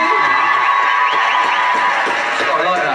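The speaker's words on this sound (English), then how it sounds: "can we have a round of applause for Reggie giving up his face?" A crowd at a premiere-night event cheers and applauds in a loud, continuous roar, with shouts and whoops rising out of the steady wash of noise.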